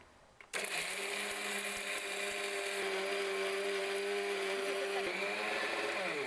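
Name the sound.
mixer grinder grinding roasted gram powder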